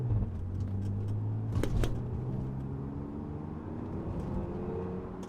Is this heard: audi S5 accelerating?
yes